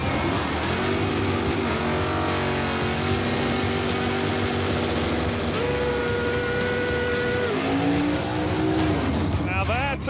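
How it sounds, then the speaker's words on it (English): Revving engine of a 1979 Ford Fairmont doing a burnout at a drag strip, a loud sustained roar with shifting pitch and tire squeal throughout, close and constant, with an announcer's voice over it. "That's a burnout."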